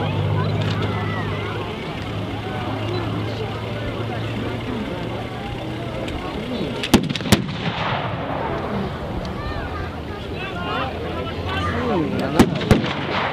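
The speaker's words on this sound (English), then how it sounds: "The Spitfire passes over, firing down on the Germans" Gunfire at an outdoor WW2 Allies versus Germans battle reenactment, with a Spitfire fighter strafing ground positions: a few sharp distant cracks and shots over a steady rumbling crowd-and-engine background, with talk throughout.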